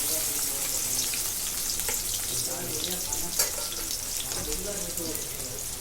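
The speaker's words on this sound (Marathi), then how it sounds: "कांदा भाजून घेते" Onion frying in oil in a kadhai with a constant crackling sizzle, occasional stirring scrapes and a soft clatter in the pan.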